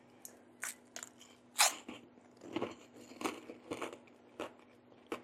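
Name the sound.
biting crunchy freeze-dried chocolate-coated mango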